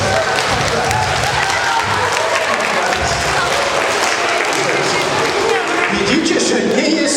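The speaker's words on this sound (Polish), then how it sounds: "O, oklaski, oklaski" Children clap loudly and continuously in a lively group during a classroom lesson about Copernicus, a dense, close wall of applause with some excited voices mixed in.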